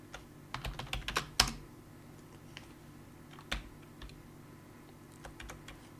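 Fingers type a Linux command on a computer keyboard, a quick burst of close clicking keystrokes followed by a few scattered taps over a quiet room hum.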